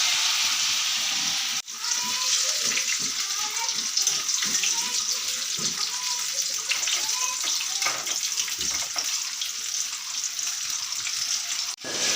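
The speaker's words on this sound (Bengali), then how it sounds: "দেখো বড়া ভাজা একদম কমপ্লিট" Dried-fish (shutki) fritters fry in hot oil with a steady, continuous sizzle and hiss, close and fairly loud throughout, broken only by a couple of brief knocks.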